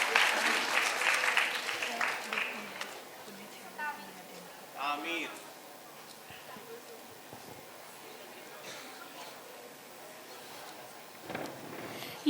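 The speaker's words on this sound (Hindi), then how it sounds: "तालियां बजती रहें।" Audience applause at a poetry gathering bursts loudly at the start and fades into scattered claps and murmurs, with brief later flurries and some voices talking.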